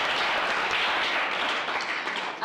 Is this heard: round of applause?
yes